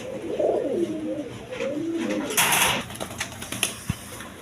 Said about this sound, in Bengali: এখানে এক পেয়ার গড়া টাইপের রাসগোল্লা কবুতর আছে